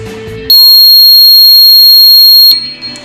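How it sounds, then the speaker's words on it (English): Buzzer in a series circuit with a small fan, powered by a 9-volt battery, sounding one loud, steady, piercing tone for about two seconds before stopping. "How loud the buzzer was ringing and the fan was not moving at all."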